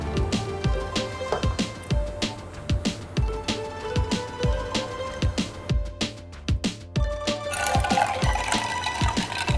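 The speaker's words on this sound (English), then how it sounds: "When all the coffee is pressed out, you will hear a hissing sound." An AeroPress coffee maker pressing out iced coffee, with close liquid gurgling and dripping in a run of soft pulses, then a broader airy hiss building near the end.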